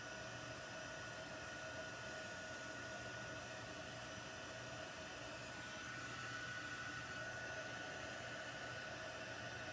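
A heat gun runs steadily throughout in a crafting room, a constant airy whir with a faint electrical tone, loud and unbroken, with no talk over it.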